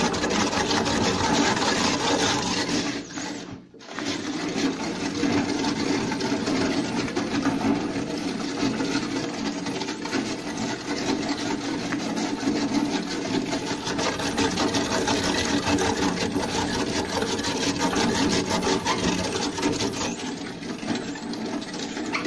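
A hand-operated disc feed chopper for root vegetables cuts with a steady, fast, rattling mechanical whir that stays loud and close. The sound stops for a moment near the start and then runs on evenly.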